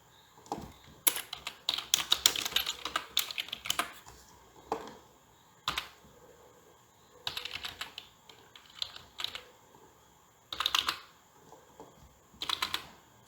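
Values being entered on a computer keyboard during a data entry program session: bursts of rapid key clatter separated by short pauses, close and clear with no talking.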